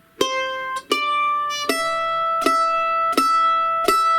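Mandolin plays a beginner bluegrass line of 'She'll Be Coming 'Round the Mountain' in all downstrokes, six bright, evenly spaced plucked notes ringing out clearly and alone, the later ones repeating an open high string.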